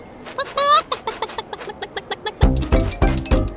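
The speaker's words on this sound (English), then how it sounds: "Hey, Moo, where are your chickens off to?" Cartoonish chicken clucking from the kids' cartoon Dr. Panda TotoTime in quick, bouncy bursts, followed by a louder run of rhythmic, deeper honking clucks near the end.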